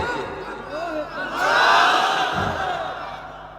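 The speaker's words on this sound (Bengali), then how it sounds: "নারায় তাকবীর জোরে একটা তাকবীর দেন সর্বশক্তি দিয়ে" Large crowd at a Bangladeshi religious gathering shouting takbir together, a single loud swelling roar of voices that rises and slowly fades.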